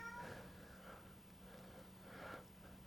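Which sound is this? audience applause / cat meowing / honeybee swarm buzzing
cat meowing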